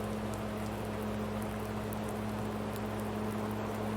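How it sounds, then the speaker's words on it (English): Rain falls steadily in Farming Simulator 19 on a farm with wet grass, a soft, even patter across the whole stretch alongside a low constant hum, with no talking. "Now it's raining again."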